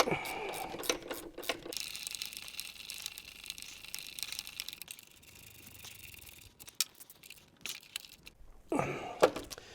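Ratcheting clicks and metallic mechanism noises come from a T50 Allen key cranking a bolt on a bike held in a stand, in short bursts and pauses of moderate loudness.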